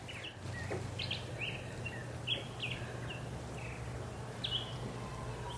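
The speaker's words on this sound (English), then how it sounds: "I think that's the black-headed grosbeak." A black-headed grosbeak sings short whistled phrases from a distance at Lake Arrowhead, over a steady low hum and faint insect buzz, with pauses between the bursts.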